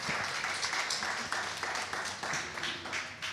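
A classroom group of students claps for a classmate, short uneven bursts of hand claps that come in waves and stay close and fairly loud, with no talking over them.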